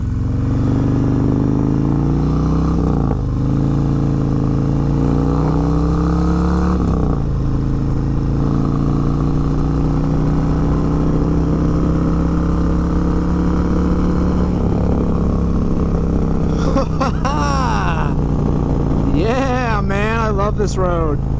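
A Harley-Davidson M8 Bagger motorcycle with an S&S Sidewinder 2-into-1 exhaust, riding on a road with a steady low engine drone that shifts pitch through gear changes and revs, under a rider talking throughout.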